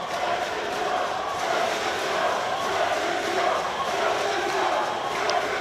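Volleyball crowd at a national league final making a continuous roar of cheering and chanting, dense and unbroken, with a faint whistle-like tone rising briefly near the end.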